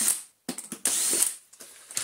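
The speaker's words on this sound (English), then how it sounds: "We can now go back to removing our five screws." A screwdriver or ratchet clicks and whirs in short bursts, with brief pauses between, while screws are removed from an Oreck XL U2645 vacuum cleaner, close and fairly loud.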